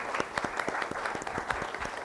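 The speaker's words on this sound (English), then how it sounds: "His assistant, Mrs. Richardson, give her a round of applause" An audience at a school district spelling bee claps for an assistant, a brief round of applause with sharp individual claps standing out, moderately quiet and fairly close.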